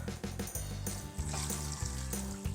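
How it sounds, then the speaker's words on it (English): Water pours steadily into a plant tray holding soil-filled containers for bare root plants, a continuous close splashing fill with small surges and no talking. "I'm going to go ahead and fill this tray up pretty high with water"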